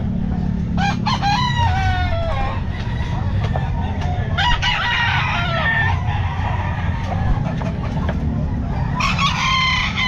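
Bull stag roosters crow repeatedly at a Calumpit pet market, several loud calls overlapping close by against a steady crowd murmur and low background noise.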